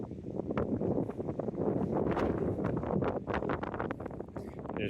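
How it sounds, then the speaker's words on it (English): Wind on a mountain trail rushes and buffets the microphone in a steady, rumbling roar with fluctuating gusts, fairly quiet overall, with faint voice fragments mixed in. "How windy it is."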